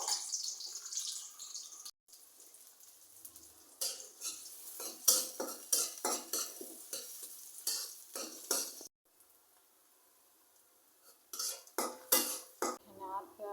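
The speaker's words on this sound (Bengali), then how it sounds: "এখন তেল দিয়ে পেঁয়াজগুলো একটু ব্রাউন কালারের করে ভেজে নেব" Chopped onions fry in hot oil in a wok as a metal spatula scrapes and clatters against the pan in repeated stirring strokes, with brief pauses between bursts.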